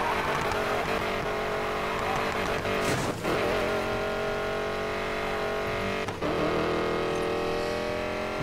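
A 1965 Ford Mustang super build in the racing game Need For Speed Payback drifts through corners, its engine droning steadily at high revs with brief tire squeals and gear shifts, loud and close throughout.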